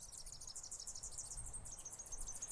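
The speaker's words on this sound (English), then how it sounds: "Birdsong." High, rapid chirps of birdsong trill on and on without pause, thin and fairly faint against a soft low background hum.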